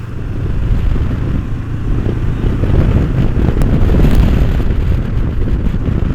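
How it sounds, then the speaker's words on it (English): Heavy wind buffets the microphone during a Honda NX500 motorcycle test ride with a constant low rumbling roar throughout, loud and unbroken. "Bit of a windy day, so I hope we are not having too much audio issues."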